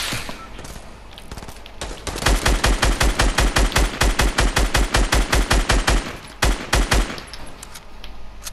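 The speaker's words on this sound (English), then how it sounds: "I just headshotted him with a shot and he had full shield." Video game gunfire, a loud close automatic weapon firing long rapid bursts of evenly spaced shots, a short pause, then another brief burst, with faint voices in the background.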